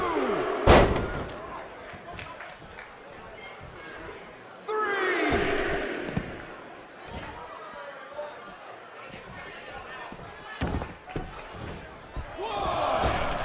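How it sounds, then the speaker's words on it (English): A raucous arena crowd roars in the WWE 2K20 wrestling video game, swelling and fading with heavy slams and thuds from the ring while a commentator talks over it. "What a raucous crowd here tonight."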